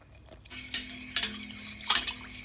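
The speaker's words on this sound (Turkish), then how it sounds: "Krema dışındaki tüm malzemeyi karıştıralım." A spoon or whisk stirring pudding ingredients with egg yolk in a pot, giving soft scraping strokes and light clinks against the metal, close and intermittent, over a faint steady hum.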